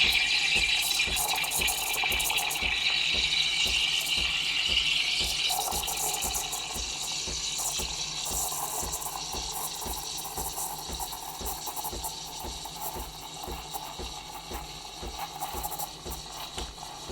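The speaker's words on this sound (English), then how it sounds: "So you just wait till actual steam comes out because we don't want to put any extra water." The steam wand of a Breville Infuser espresso machine hisses and sputters as steam and water push out, with a pulsing pump-like rhythm underneath, steady and close.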